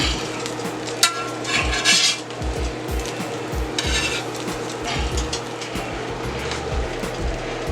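Stuffed pancakes fry on a steel griddle with a steady sizzle while a spatula scrapes and flips them, giving repeated rasping scrapes and soft knocks, close and continuous.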